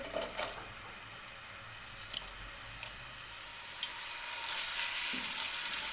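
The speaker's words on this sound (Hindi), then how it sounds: "कुकिंग ऑयल हमारा गर्म हो चुका है। अब इसमें हम प्याज डाल देंगे।" Onions sizzle in hot cooking oil while a mixed vegetable dish is prepared, a steady broadband frying hiss with a few sharp spatters and stirring clicks, growing a little louder and denser toward the end.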